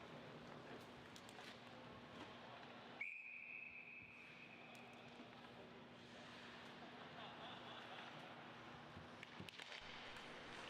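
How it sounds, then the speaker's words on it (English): A referee's whistle at an ice hockey game, one sharp sustained blast of about two seconds that stands out over steady arena crowd noise and a play-by-play voice. "we'll get a whistle"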